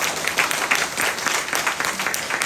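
A church congregation at a Saturday prayer meeting breaks into loud, dense applause, many hands clapping together continuously throughout.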